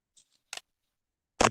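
A Heckler & Koch USP airsoft pistol fires, giving two sharp, dry snapping bursts, one brief and lighter, the second louder and fuller, separated by silence.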